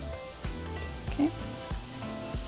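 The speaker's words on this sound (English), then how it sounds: "I'm just going to add a little bit of oil to my coman." Sopes fry lightly in oil on a comal with a soft, steady sizzle and a few faint taps, close and quiet.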